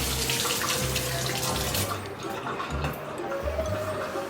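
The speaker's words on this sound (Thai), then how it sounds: "นี่ขั้นตอนแรกล้างน้ำ" A mango is rinsed under a running kitchen tap, water splashing steadily and close, with the flow softening briefly midway before continuing.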